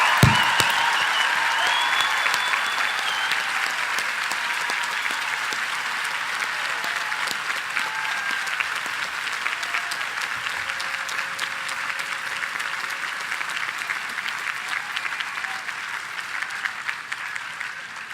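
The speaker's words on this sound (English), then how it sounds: "let us all welcome with applause the class of 2019" A large commencement audience applauds the graduating class at Reed College, sustained dense clapping that holds steady for the whole stretch and slowly thins near the end.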